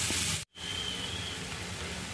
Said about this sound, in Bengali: তো হালকা হালকা ভেজে নিচ্ছি।